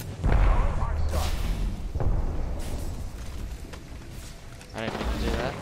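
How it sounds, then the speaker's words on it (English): Enemy gunfire in Apex Legends, a cluster of heavy booming shots and impacts that rise and fall across the clip, set among busy game noise with a voice talking over it. "The enemies are shooting at me."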